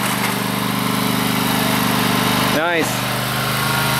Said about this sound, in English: I've always been impressed with his skills at driving that garden tractor.